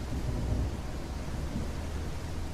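Rumbling thunder and steady rain in a scary suburban driving video game, a continuous low, dense roar that stays loud and even throughout with no voices.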